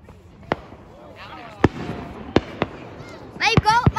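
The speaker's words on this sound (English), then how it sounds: "We're watching fireworks." Fourth of July fireworks go off in a string of sharp booms and crackling bursts at moderate distance, spaced irregularly, with children's voices talking between the blasts.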